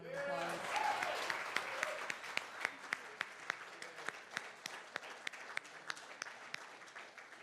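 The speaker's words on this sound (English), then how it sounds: "one more round of applause." An audience applauds after a jazz performance, a burst of clapping that thins into scattered individual claps, with a voice talking over it.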